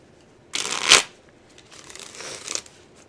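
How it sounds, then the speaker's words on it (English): A deck of tarot cards being shuffled up close, one loud riffling burst, followed by a softer second riffle with card taps. "I'm just going to do a couple shuffles"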